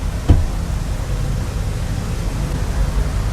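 Intense rain in the video game Rain World, a dense, loud, steady roar of downpour noise with one brief thud near the start and no voices.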